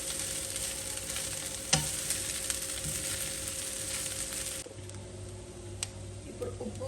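Boiled basmati rice fries with chicken sausage and carrot while being stirred in a pan, a steady close sizzle with a sharp spoon knock and soft scraping, the hiss easing slightly partway through.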